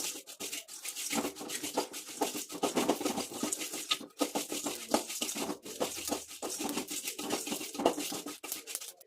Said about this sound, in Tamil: ஸ்லோ ஃப்ளேம்லேயே வச்சு நம்ம ஃப்ரை பண்ணி எடுத்துப்போம்.